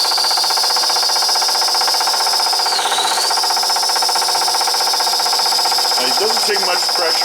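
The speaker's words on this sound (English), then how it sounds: "Now we're going to go ahead and we're going to taper the inside." A skiver tapers the inside of a shotgun slug with a loud, continuous high-pitched whine and steady buzzing, dipping briefly midway and then picking up some clattering near the end.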